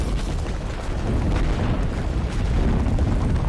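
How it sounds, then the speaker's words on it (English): Artillery fire in the World War II shooter Enlisted, a continuous heavy rumble of distant and overlapping explosions, loud and booming throughout with no distinct gaps. "More artillery again."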